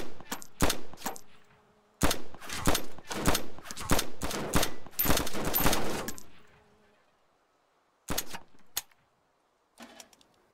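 Bursts of gunfire in DayZ aimed at gas pumps: dense, rapid volleys of loud shots for about six seconds, then a pause and a few more short bursts, no talking.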